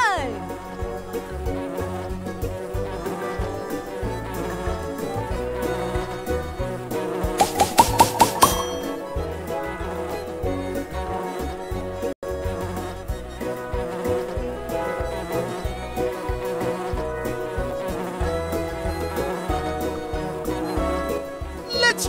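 A bee buzzing as it flies in the Nature Cat pollinator video game, a steady insect drone under upbeat game music with a brief burst of sound effects partway through.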